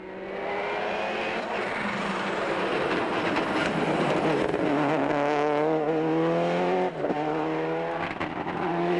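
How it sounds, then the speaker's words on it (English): An older model Subaru rally car at full throttle on a Donegal rally stage, engine revving loudly and steadily climbing through the gears, with a brief lift around a gear change, close and dominant throughout. "James Gillen and Sinead McCafferty are really pushing their older model Subaru to the edge and use their local knowledge to best effect"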